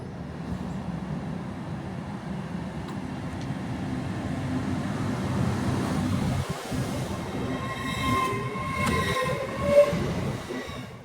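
A London North Eastern Railway train bound for Edinburgh Waverley rumbles steadily and fairly loud on the East Coast Main Line, with rolling wheel noise, a brief metallic squeal and a short horn-like tone near the end.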